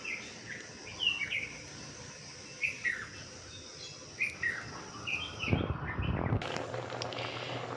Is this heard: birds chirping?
yes